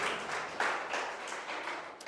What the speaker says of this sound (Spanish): ¿Cuánto le da un aplauso al Señor en esta mañana?